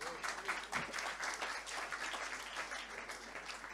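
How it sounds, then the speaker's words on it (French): Steady, soft applause from a conference audience at a business colloquium, a dense even patter of many hands that sounds somewhat distant and continues throughout without a break. "vous l'applaudissez"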